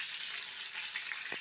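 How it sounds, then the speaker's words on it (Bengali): Fish frying in hot oil in a home kitchen, a dense steady hiss and crackle heard up close for a moment before cutting off, with no voices. "এবার মাছটা আমরা ভেজে নিচ্ছি।"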